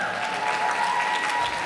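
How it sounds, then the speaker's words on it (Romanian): Audience applause at an arts high school event in Bacău, a steady dense wash of clapping from a crowd, close and continuous for the whole moment without any voices. "Aplauze, aplauze,"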